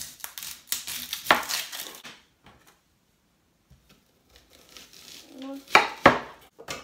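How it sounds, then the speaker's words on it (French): Knife chopping an onion on a board for fish seasoning, a quick run of close crunchy cuts, a pause of near silence, then a few more scattered chops and knocks, with a faint voice briefly in the background. "donc on va couper l'oignon"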